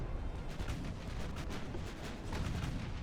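Heavy naval gunfire from a battlecruiser in the Ultimate Admiral Dreadnoughts 1940 naval battle game: a dense, continuous roar of overlapping booms and deep rumble, loud and sustained throughout with faint repeated thumps and no voices.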